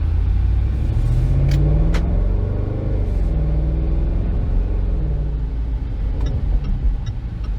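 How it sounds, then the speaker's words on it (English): Low, continuous engine rumble from a 2019 Jaguar F-Pace SVR coasting off the throttle in normal mode, with a few faint crackling backfire pops near the end, heard from inside. "You still get that little backfire rumble that happens."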